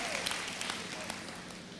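Congregation applauding during a Spanish-language church sermon on peace, a steady dense wash of clapping filling the room at moderate level throughout.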